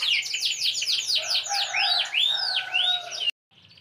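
A large canary in full song, delivering rapid bright trills and rolling warbled phrases up close for several seconds before cutting off abruptly.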